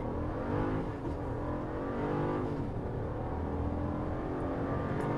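A 2023 Jeep Grand Wagoneer with a 6.4-liter V8, in sport mode, accelerates hard from 0 to 60 with a deep, sustained engine roar, heard from inside the cabin, rising through the gears with brief shift dips.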